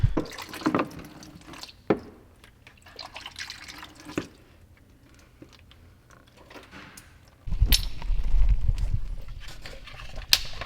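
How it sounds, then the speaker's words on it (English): Engine oil from a Mitsubishi Evo VIII drains out of the oil pan during a rebuild, splashing and dripping in irregular spatters before a heavier pouring gush near the end. "got sprayed with oil everywhere. It was splashing up all out of the pan."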